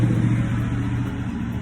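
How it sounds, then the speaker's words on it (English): A steady rumble of passing road traffic, a car engine droning nearby at constant volume. "Sorry about the road noise, I'm at one of my piles near the road."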